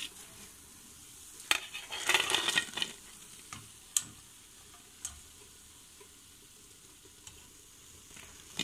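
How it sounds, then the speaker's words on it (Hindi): Moong dal pakoras fry in hot oil with a soft continuous sizzle, a brief louder crackling burst, and scattered light clicks of a metal spoon against the pan. "तो इस तरह आप बाकी के पकौड़े फ्राई कर लीजिए"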